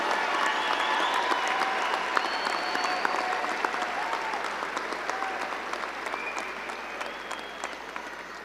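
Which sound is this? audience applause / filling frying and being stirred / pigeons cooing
audience applause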